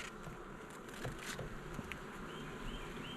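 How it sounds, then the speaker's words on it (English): Steady insect buzzing fills the air, a dense, continuous hum of many bees at close range with no voices. "They're busy bees."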